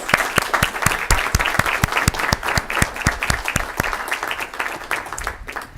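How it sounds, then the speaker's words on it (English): A small crowd at a city council meeting applauds, with individual claps clearly audible in a brisk, uneven rhythm that thins out toward the end. "Yeah, round of applause."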